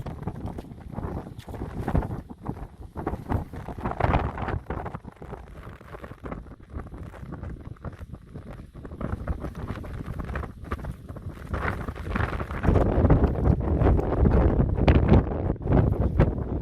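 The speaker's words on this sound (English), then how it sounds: "I tell you, the wind has really picked up" Strong wind gusts buffet the microphone on an exposed desert mountain trail near an old mine tramway in Death Valley, a loud, continuous roar that swells and rises toward the end, with no talking.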